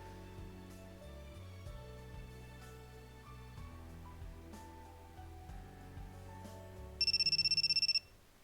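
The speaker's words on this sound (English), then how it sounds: "my cell phone bleats shrilly in my pocket." Cell phone ringing in the visual novel The Fruit of Grisaia, a sharp electronic ringtone bursting in rapid pulses for about a second, loud over soft background music that continues beneath it.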